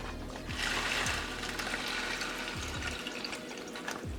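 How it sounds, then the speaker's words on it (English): Water streams and splashes steadily from close by into instant tea from a Polish individual ration pack, a continuous pour with faint bubbling. "Alright, let's add some water."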